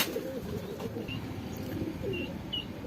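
A pigeon held in the hand gives soft, low coos, faint and intermittent over a steady background hiss, with a few thin chirps scattered through.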